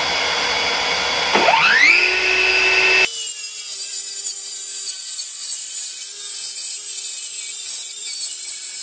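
A power saw cuts through wood pieces for kitchen seating with storage; the motor spins up with a rising whine, then settles into a steady high hum, close and loud.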